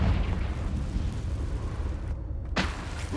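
A Confringo fire spell bursts in Hogwarts Legacy, a loud sustained rumbling blast that fills the whole stretch, briefly cut to near silence before another sharp burst erupts, with no voices.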